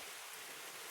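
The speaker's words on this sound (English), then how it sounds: "It's rainy and cold," Steady rain falls on a cold late-May day in West Virginia, a dense, even hiss that holds unchanged and fairly loud for the whole moment with no voices.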